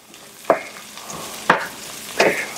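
White rice toasting in oil and seasoning for jambalaya: three distinct scraping stirs sound at even intervals over a soft, constant background sizzle, with no speech.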